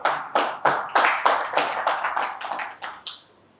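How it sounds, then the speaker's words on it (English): A small audience at a panel discussion on Zimbabwe's post-election political and economic landscape claps to welcome a discussion leader, with sparse, distinct hand claps at close range, loosening into a ragged patter before fading out. "Can we give him a round of applause?"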